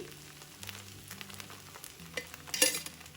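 Batter made from leftover rice fries in oil in a pan, giving a steady close sizzle with a brief louder crackling burst near the end over a faint tonal background.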